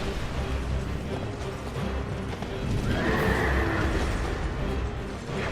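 A horse boss in the video game Dark Souls 2: Scholar of the First Sin neighs and whinnies over clip-clopping hooves, loud and close against a dense game soundscape, with no talking.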